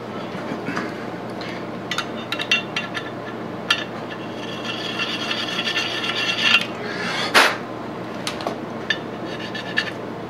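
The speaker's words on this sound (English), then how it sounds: "Using a little carborundum stone here just to take off any burrs." A small carborundum stone rubs along the edges of a machined part to remove burrs at a South Bend 13-inch lathe, making rasping, scraping strokes of uneven length with occasional sharper metallic scrapes and clinks, close and moderately loud.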